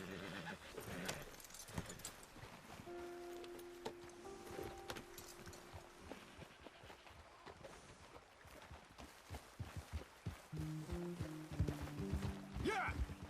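Horses in the Red Dead Redemption 2 video game: hoofbeats clop steadily through the scene, with a brief whinny, mixed with tonal game music and ambient sounds at moderate loudness.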